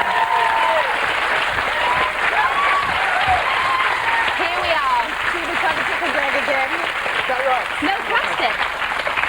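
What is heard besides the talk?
TV studio audience applauding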